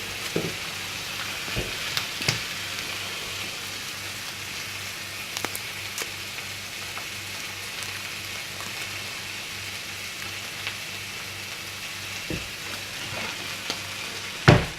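Pork, mushrooms and garlic fry in a pan with a steady, even sizzle, broken by occasional clicks and scrapes from stirring, close and without talk.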